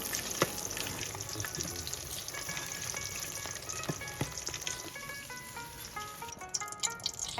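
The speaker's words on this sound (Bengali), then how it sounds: "চুলার আঁচটাকে মিডিয়াম হিটে রেখে আমি সবগুলো মাছকে ভেজে নেব" Hilsa fish frying in oil in a pan over medium heat, a continuous soft crackling sizzle with scattered pops and small clinks, close but quiet.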